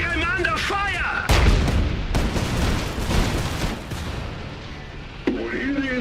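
Iron Harvest battle on the Saxony front, with dense gunfire and heavy artillery booms crashing in a loud sustained barrage between game voice lines.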